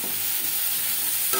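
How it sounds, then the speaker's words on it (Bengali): Raw mango pieces with turmeric and salt fry lightly in a pan with panch phoron and chilli, a brief close sizzle with soft scraping of a stirring spoon and no talk. "আম হালকা করে ভেজে নেব"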